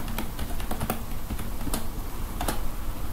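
Rapid, irregular clicking of keys on a computer keyboard as a password is typed, close and clear over a soft background hiss, with no talk.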